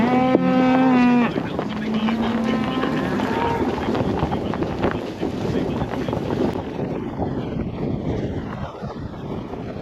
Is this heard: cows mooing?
yes